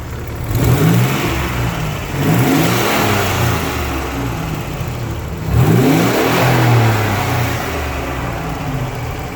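A turbocharged 1985 Nissan 300ZX engine revs hard three times, each surge rising and falling over a steady rumbling idle, loud and close, with no talk.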